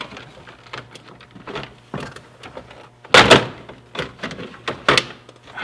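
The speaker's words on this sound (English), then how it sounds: "popping off old plastic in the cold" Old plastic car dash panels are pried apart in the cold, giving a series of close, sharp cracks, pops and thunks, with one louder snap partway through and scattered clicks around it.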